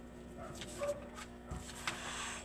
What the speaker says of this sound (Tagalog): Aso na tumatahol. Mga aso tumatahol.